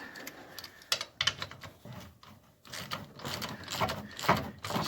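A wrench ratchets and clicks while loosening the gold oil drain plug underneath a 2013 Polaris Sportsman 90 ATV, giving close, irregular mechanical ticking with no talk.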